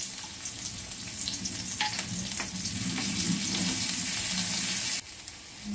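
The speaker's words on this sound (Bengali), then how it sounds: "পেঁয়াজ কুচিটা অল্প নাড়া হয়ে গেছে" Chopped onion frying in hot oil with green chilies and garlic for a fish curry, a steady loud sizzle with occasional stirring scrapes, close up, ending with an abrupt drop in level.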